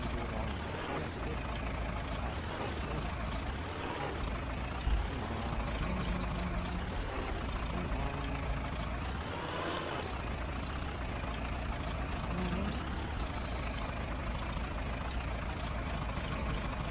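A John Deere 3020 tractor engine idles steadily in the Farming Simulator 22 video game, producing a continuous low rumbling drone with no breaks.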